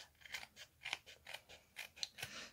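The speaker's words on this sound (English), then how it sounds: "I'm just going to quickly trim that up so that it matches the front." Scissors trim paper for a stamped card craft, producing a steady series of about nine soft, crisp snips close to the listener.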